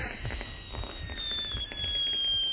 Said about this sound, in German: Von der Seite Schüsse.